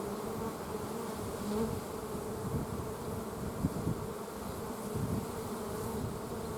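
Honey bees buzzing in an open hive while frames of brood are inspected, a steady, close, dense drone that fills the whole clip without talk.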